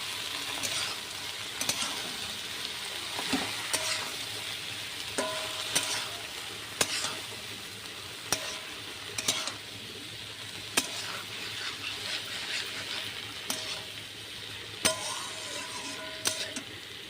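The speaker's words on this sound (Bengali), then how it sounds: "আমি এবার এতে লেটকিগুলো দিয়ে দিলাম ভালো করে কষিয়ে নেবো" Taro stolons are stir-fried with browned fried onion, giving a steady close sizzle and regular sharp scrapes and clacks of a spatula against the pan every second or so, with no talking.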